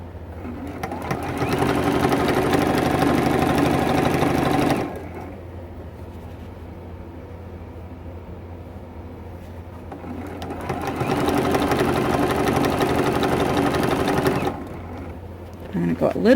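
A sewing machine stitches binding onto a T-shirt quilt in two long steady whirring runs separated by a pause, close and loud. A voice is heard speaking during the quieter pause.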